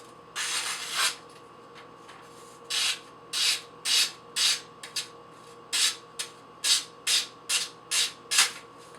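A knife is sharpened freehand on a 3,000 grit Chosera whetstone: a series of crisp, rhythmic swishing strokes, close and distinct, each about half a second long with short pauses between.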